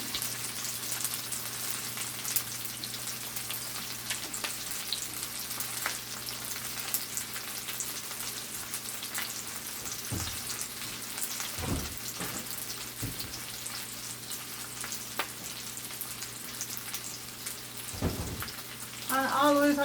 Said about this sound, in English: I'm gonna add all the onions and let those saute